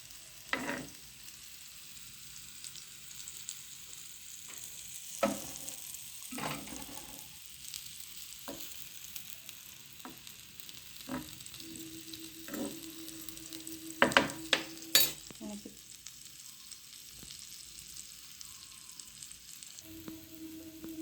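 Homemade dosa frying in butter or oil on a hot pan gives a steady, close sizzle, broken by occasional sharp clicks and scrapes of the utensil, with no voices.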